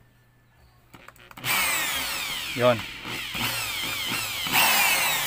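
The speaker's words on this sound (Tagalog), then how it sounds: "gamitan natin ng barina" A power drill whirs loudly and steadily after a brief startup, its pitch wavering as it works on an electric fan, with a short spoken word near the start.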